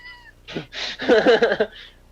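A black cat meows in a movie scene, a single drawn-out, wavering cry lasting about a second, loud and close, after a brief quiet stretch of higher tones.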